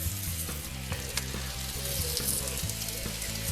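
Pre-made Lidl rosti fry on a hot barbecue grill with a steady, close, dense sizzle and crackle that holds constant throughout, with no talking.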